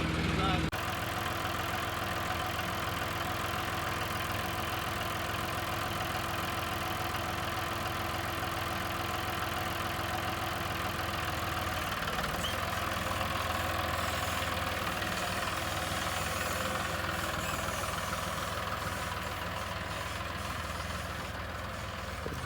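An old tractor engine idles steadily after being repaired, a continuous low mechanical drone with a constant hum that holds for the whole stretch, close by, with no clear talking over it.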